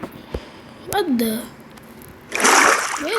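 Water splashing in the Minecraft survival video game, with a short splash near the start and a louder, sustained burst of splashing later, as a voice talks through the clip.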